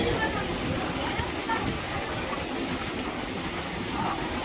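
Interior of a near-empty passenger train in motion, a steady dense rumble and rushing roar of wheels and carriage with no break.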